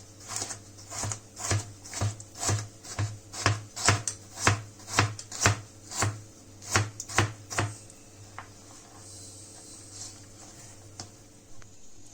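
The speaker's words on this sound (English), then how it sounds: "we have chopped down all our veggies" A knife chops vegetables such as carrot and garlic on a cutting board in a steady series of crisp, close knocks for about eight seconds, then slows to a few scattered taps, with a faint hum beneath.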